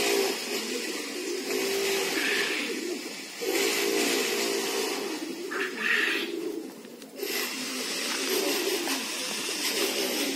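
Manax pigeons coo softly near a loft, low murmuring calls repeating over a constant hissing, rustling background, with no speech heard.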